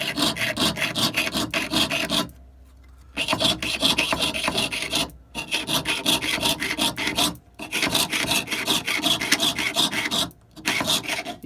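A jeweler's saw cuts through thin metal with quick, steady rasping back-and-forth strokes, broken by several brief pauses as the metal is turned, close and fairly quiet.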